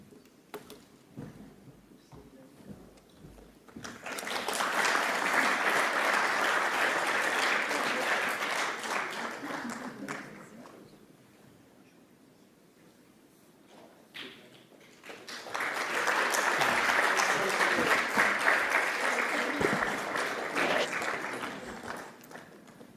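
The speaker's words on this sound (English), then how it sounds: "Big round of applause again." At a United Nations World Meditation Day event, a large audience breaks into two separate rounds of applause, each swelling and lasting several seconds, with quieter murmuring in the gap between them.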